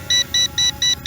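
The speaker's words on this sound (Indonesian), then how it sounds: "Jadi kalau dia ada rintangan dia langsung bunyi teman-teman." Drone P21 obstacle-avoidance sensor warning, a rapid series of five high electronic beeps in an even rhythm, close and clear with no talk.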